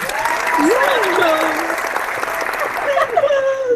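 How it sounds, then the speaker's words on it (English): A burst of clapping continues steadily throughout, with people talking and shouting over it. "And a round of applause to Aniyus Wolf"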